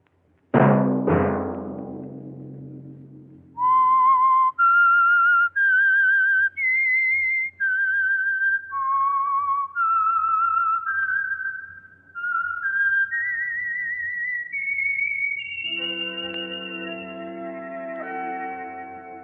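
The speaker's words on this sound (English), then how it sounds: "Let that whistle be your signal for the Signal Oil program" The Whistler radio program's signature whistle theme: a single person whistles a clear, wavering melody of sustained notes, opening with two sharp struck accents and then a low orchestral swell entering near the end; no talking.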